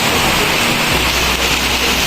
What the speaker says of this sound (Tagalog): Lakas pa rin ng ulan dito